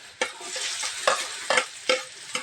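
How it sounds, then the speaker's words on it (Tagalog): Chopped onions sauté in a hot pan, giving a continuous close sizzle. About five sharp scraping strokes from stirring break it up at a fairly regular pace. "magigisa na tayo. Sibuyas."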